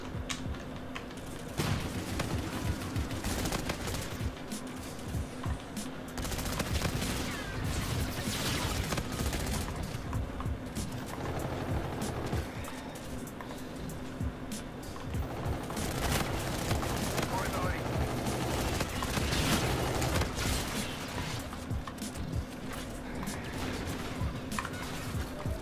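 A first-person shooter plays bursts of rapid XMC gunfire, dense and loud, over continuous game noise while someone talks throughout.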